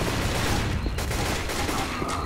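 Dense gunfire in Left 4 Dead, loud overlapping shots and bursts filling the whole moment with a constant, close barrage.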